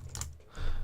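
Brief clicking of computer keyboard keys, a short burst of close typing lasting under a second.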